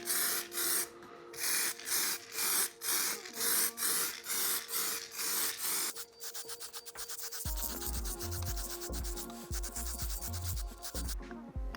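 Primer is sprayed from a can onto an Arai GP6S motorcycle helmet on a spinning base, in short rhythmic hissing bursts at first, then a longer spray over a faint clattering turning sound, close and fairly quiet.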